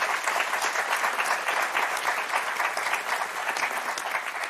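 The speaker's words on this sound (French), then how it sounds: "On vous applaudit très très fort." A game show studio audience gives a contestant sustained applause, a thick, steady clatter of many hands throughout, moderately distant and without talk.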